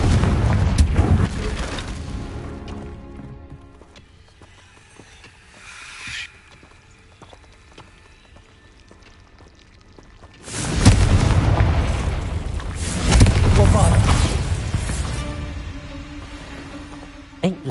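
A Confringo spell explosion in the video game Hogwarts Legacy, with a loud booming blast at the start and a second heavy rumbling burst later, separated by a quieter stretch.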